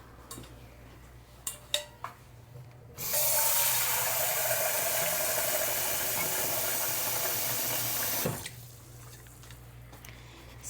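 Water poured from a tap into a cooking pot while making Jamaican cornmeal dunkunu, a steady bright splashing stream for about five seconds, framed by a few clinks of pots and utensils before and after.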